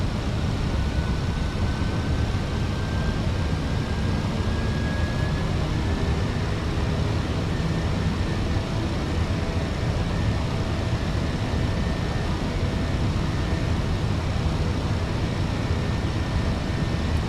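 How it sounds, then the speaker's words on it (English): Thrust from an Airbus A321 (Fenix, British Airways livery) builds into a steady, broad engine roar during the climb out of London Gatwick in MSFS 2020, with a faint rising whine over a constant rumble. "Thrust's going to build up. I'm going to start climbing now."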